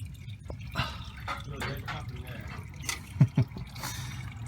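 Transmission fluid drains from a 2004-2008 Ford F-150 under repair. The faint trickle carries a few distinct drips near the end, with quiet background noise and no speech.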